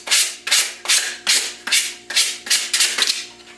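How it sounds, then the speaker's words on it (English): Sandpaper scrubs over the wax sealer on a taxidermy piece in about nine quick, even strokes, each one a loud, close, rasping swipe in a steady rhythm. "So I just real quickly take a piece of sandpaper and just run it over"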